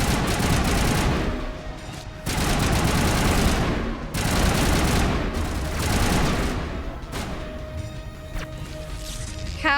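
An assault rifle in Mass Effect 1 Legendary Edition fires loud, close, sustained automatic bursts, several long volleys broken by brief pauses, with a faint electronic tone between them.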